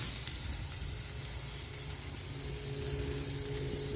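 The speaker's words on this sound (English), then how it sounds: "I gotta get a good sear on it." Picanha beef searing over an open flame for a reverse-seared cut, giving a steady, even hiss and sizzle with a low roaring undertone, moderately quiet and unbroken, with no talking.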